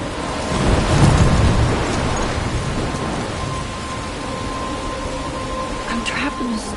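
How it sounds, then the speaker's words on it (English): A thunderstorm in the game Life is Strange, with steady heavy rain hissing throughout and a deep rumble of thunder early on, loud and close, plus a faint tonal hum. "I'm trapped in a storm?"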